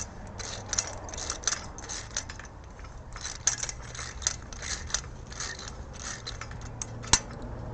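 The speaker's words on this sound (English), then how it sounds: "We're just going to use our socket wrench here." A socket wrench ratchets as it unscrews a 5/8 inch bolt on horse hames, giving a run of small, close metallic clicks and ticks against a quiet background.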